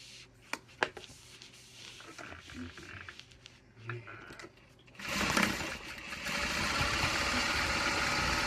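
A sewing machine top stitches a handbag, starting midway with a loud, close, continuous motor hum that follows scattered handling clicks and rustles.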